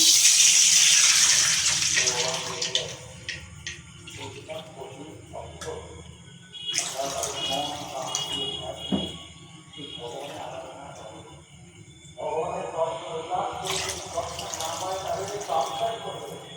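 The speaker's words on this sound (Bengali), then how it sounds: "তারপর দিয়ে দিচ্ছি পরপর 3 কাপ মতো জল।" About three cups of water poured in succession into a lightly oiled pan, a steady close splashing pour with breaks between cups, alongside speech.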